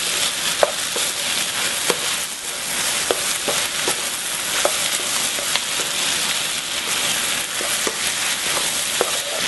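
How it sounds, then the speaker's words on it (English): Stir-frying in very hot oil for jjajangmyeon black bean sauce, a steady loud sizzle with scattered sharp clicks of a utensil against the pan, no talking. "around 1 minute I stir fry when the oil is very heated"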